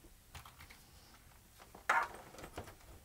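A computer keyboard being handled and shifted aside on a gaming desk while clearing space, producing soft clicks and clatters with a louder knock near the middle, all fairly quiet and close.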